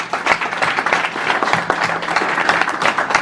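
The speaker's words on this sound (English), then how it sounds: "Please, one more round of applause, please." Applause at an Afrimma 2018 music panel: close, uneven clapping from a smaller audience, individual claps audible in a lively, irregular rhythm over a few seconds, with faint murmuring beneath.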